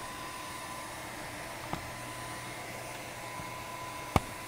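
A heat tool blows steadily as it melts embossing powder on bows, giving an even hair-dryer-like whoosh throughout, with a couple of faint clicks.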